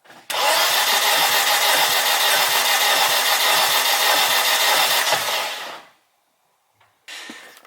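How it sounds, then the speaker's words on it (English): Starter cranks the engine of a 600hp turbo Honda Civic with almost no compression, a loud steady whirring drone for about five seconds that cuts off abruptly, followed by a brief pause and a second short burst. "we're going to go crank it over. Oh, and my starter sounds amazing too"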